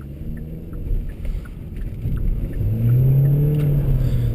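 A 2022 Hyundai Elantra accelerates, its engine note rising and swelling into a loud, steady drone with wind rush in the background.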